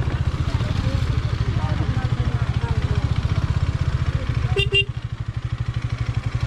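Motorcycles pulled over on a road near the Bhutan border in Assam idle with a loud, even thumping beat that steadies as they settle, and a brief sharp beep cuts in near the end.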